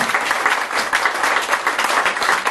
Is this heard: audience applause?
yes